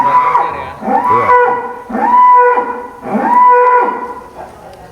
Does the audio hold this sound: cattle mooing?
yes